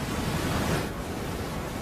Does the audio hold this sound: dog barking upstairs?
no